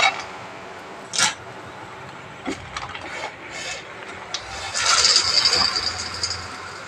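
Roasted chickpeas tumble into a pan of melting jaggery, giving a few sharp rattling and scraping bursts that end in a longer clattering stir, close and fairly loud.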